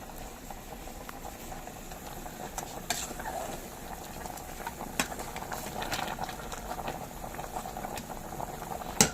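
A pot of chicken for kabsa bubbles at a rolling boil, a continuous close simmering burble dotted with small pops and occasional clinks, steady throughout.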